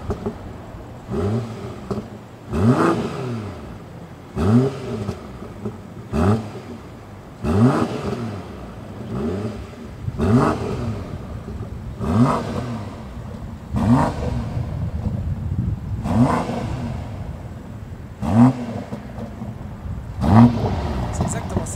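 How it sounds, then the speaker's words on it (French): A BMW M440i engine revs repeatedly in a regular series of rising and falling blips, about a dozen close, punchy bursts spaced a couple of seconds apart. "je propose qu'on aille démarrer et faire un petit tour"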